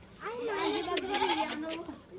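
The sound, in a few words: goat bleating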